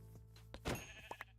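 Sheep bleat in a hardcore survival video game, a few short wavering cries close by over a faint steady background hum, with no one talking.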